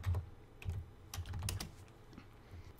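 Typing a folder name on a computer keyboard while setting up a game project, with short bursts of close, crisp key clicks in uneven clusters and no speech.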